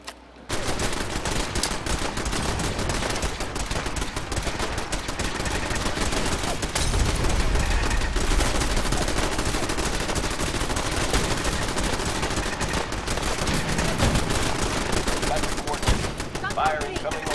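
Sustained bursts of gunfire in Fallout 4 during a fight at Avalon, with dense automatic shots and rapid cracks rolling on without pause for about seventeen seconds, loud and close, over a muffled low rumble.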